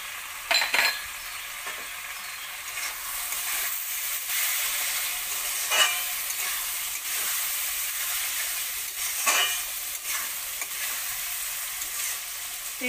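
Fried moong dal being stirred in a pan for Bengali-style masala khichuri, giving a steady sizzle with a few sharp scraping stir strokes, close and continuous with no talk.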